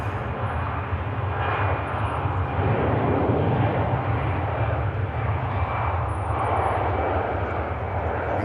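An easyJet airliner taxis at Manchester Airport, a steady loud broadband jet engine roar holding throughout with no talk.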